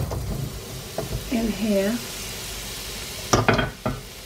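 Jerk breadfruit ingredients with soy sauce sizzle and fry in a pan, a continuous hiss with a few sharper crackles near the end, while someone speaks briefly over it.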